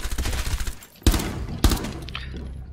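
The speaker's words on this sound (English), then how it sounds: "Go get him, go shoot through the window." Gunfire in the shooter Rainbow Six Siege, a rapid rattle of shots followed by two loud, sharp bursts a moment apart, close and punchy with no talk over it.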